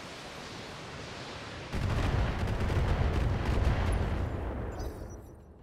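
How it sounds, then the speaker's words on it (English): A volley of LRM missiles launches at enemy mechs in Battletech, bursting in suddenly as a dense, sustained roar of rapid blasts that rumbles on for several seconds before easing off. "I'll still fire LRMs at the Orion"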